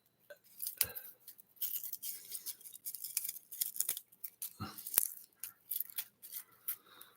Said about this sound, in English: y'all want to see me brush my teeth?